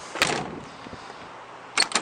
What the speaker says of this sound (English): Door shut good.